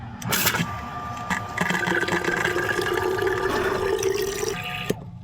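Water gushes steadily from a tap inside a DIY camper van, a continuous close splashing stream with a faint mechanical whine underneath, stopping abruptly near the end.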